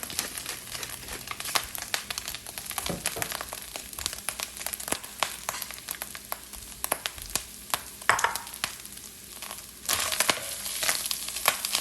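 Corned beef hash frying in a pan as black pepper goes in, a steady close sizzle with crackling pops and scraping throughout, no talking.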